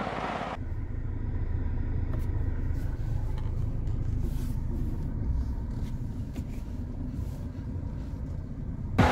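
A Mahindra Scorpio N diesel 4x4 with automatic transmission descends a steep off-road slope in four-wheel-drive low, giving a steady, deep engine rumble and drivetrain drone heard from inside the cabin, with no speech.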